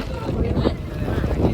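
Boat moving on the sea off the Konkan coast near Malvan, a steady rumbling wash of engine, water and wind buffeting the microphone, with faint voices underneath.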